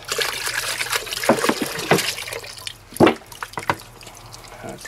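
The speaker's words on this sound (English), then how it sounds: "so we're going to put a little bit more water in." Water poured from a jug into antifreeze while flushing a 2001 GMC truck heater core, producing close trickling and splashing with a few louder gushes.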